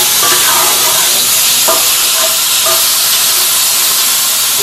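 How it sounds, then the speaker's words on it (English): Smoked sausages fry in a pan with a loud, steady hiss and sizzle that runs unbroken throughout, with a couple of faint clinks beneath. "We're gonna let them just fry a little bit on each side."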